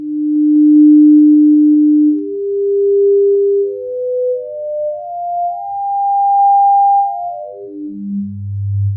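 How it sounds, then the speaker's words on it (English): Pure synthesized sine tones step through the harmonic series, a loud clean sequence of sustained notes rising pitch by pitch, then falling back quickly and ending on a low tone. "So this is called the harmonic series"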